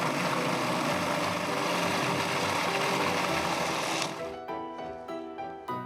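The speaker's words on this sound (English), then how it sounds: "then whiz it into a fine puree" A food processor whizzing raw vegetable dip ingredients into a fine puree, running as a steady loud motor whir for about four seconds before cutting off and spinning down with a few fading pulses.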